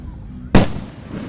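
A single loud firework explosion bursts at a Kansas fireworks show, sharp onset followed by a short rumbling decay over low background noise.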